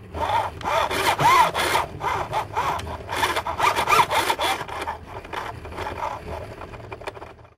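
Gritty, rhythmic grinding and rubbing as a gear-driven Porsche Carrera sim racing wheel is turned back and forth, fairly loud and close, in repeated bursts with no talking.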